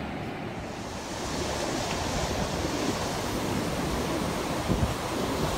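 Ocean waves rolling onto the beach at Myrtle Beach on a spring morning make a continuous broad wash of surf, with wind buffeting the microphone throughout.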